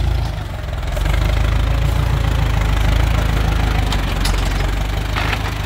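A Ford car engine runs at low revs in second gear, a steady low rumble with a slight knocking undertone that holds level throughout, close and continuous with no talk.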